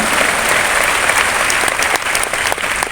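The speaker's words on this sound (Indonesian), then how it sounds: "Berikan tepuk tangan buat Tuhan." A church congregation applauds during a service, a dense, continuous wash of clapping from many hands filling the room for the full few seconds.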